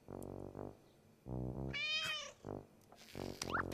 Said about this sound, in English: Sarah's cat Ollie was very happy that Caillou had come for supper.